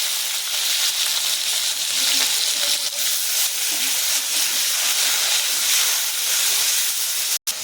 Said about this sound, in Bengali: এটা পেঁয়াজটা ছেড়ে দেবো।